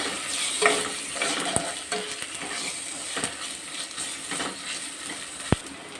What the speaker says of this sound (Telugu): ఒక స్పూన్ అల్లం వెల్లుల్లి పేస్ట్ వేసుకోవాలి పచ్చివాసన పోయే వరకు ఫ్రై చేసుకోవాలి